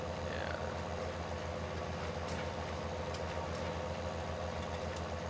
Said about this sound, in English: this little tractor seems to pull this baler along pretty good